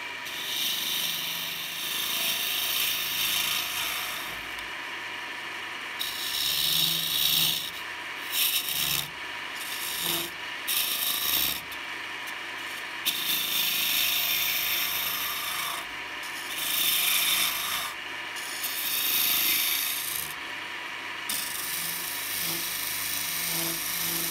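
Steady hand scraping and rasping as end grain wood is hollowed out by hand for a goblet, a continuous gritty rubbing with short pauses and shifts in intensity, close by and moderately loud.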